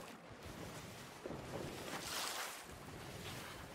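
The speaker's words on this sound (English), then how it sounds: "we're just gonna keep sailing the direction we're going" A pirate ship sails over ocean waves in the Sea of Thieves video game, with a steady wash of water and wind rushing under the hull and one brief surge of spray.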